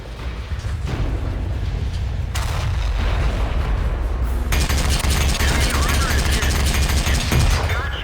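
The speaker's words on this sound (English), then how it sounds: "Ammo rack! Oh, the turret blew off!" In World of Tanks, a tank's ammo rack detonates and blows the turret off: a loud, dense roar of blasts and crackling gunfire-like bursts runs through the whole stretch, with a voice speaking over it.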